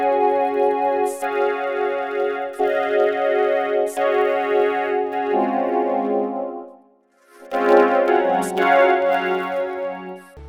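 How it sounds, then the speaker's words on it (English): Vocoder-processed vocals sustaining the song's chords in a robotic harmonic tone, block chords changing every second or so, with a brief drop to near silence before the chords return. "What a vocoder does is you feed it piano MIDI notes and then you assign it a source to make the sound from"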